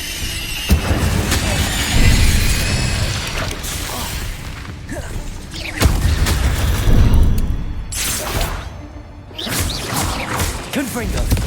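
Incendio fire spells cast in Hogwarts Legacy during a fight, each burst a loud whooshing, crackling rush with squeals and shattering impacts, repeating in several waves over dense combat noise.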